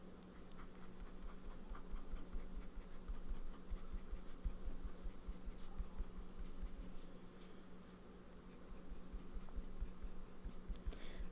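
A fountain pen with a medium nib scratches steadily across paper, a close, continuous dry rasp of writing strokes with small pauses and no voices.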